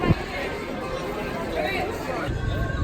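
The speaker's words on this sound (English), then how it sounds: "Insert clip of huge crowd." Huge crowd at Disneyland at night, a dense babble of many voices and shuffling footsteps filling the space steadily, no single speaker standing out.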